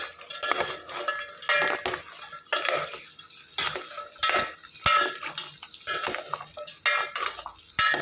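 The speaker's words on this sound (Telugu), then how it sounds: "కొంతసేపు మూత పెట్టుకొని మళ్ళీ ఇంకోసారి తిప్పుకుందామండి" A spoon stirs beef and cucumber curry, Andhra style, in a pot, with repeated scraping and clattering strokes against the metal and a faint sizzle beneath. Nobody speaks.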